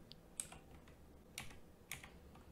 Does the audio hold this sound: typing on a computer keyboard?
yes